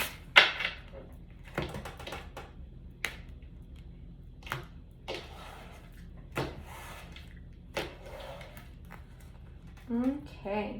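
Tarot cards are shuffled in a quiet room, giving a series of sharp, scattered snaps and riffles at irregular intervals, faint and close, with soft talk between them.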